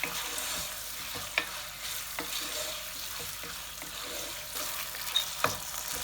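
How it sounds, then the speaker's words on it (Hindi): Chicken pieces fry in a hot pan for vindaloo, a steady soft sizzle with a spoon stirring and scraping in occasional clinks and scrapes, heard close with no talking. "हम डाल देंगे हमारा चिकन इसमें। और थोड़ा हमें हिलाना है जब तक थोड़ा सा ब्राउन हो जाए।"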